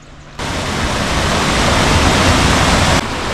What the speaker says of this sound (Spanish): Cascada muy grande, tendrá unos 10 metros